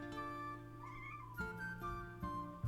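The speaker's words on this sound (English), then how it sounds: "He is at the door again. He is very persistent, that cat." A persistent cat outside a door meows to be let in, a few short cries rising over steady video game music, fairly faint and somewhat distant.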